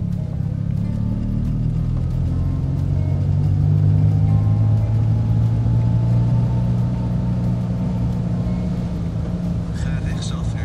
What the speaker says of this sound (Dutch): Choke in de auto, dan houdt hij mee op.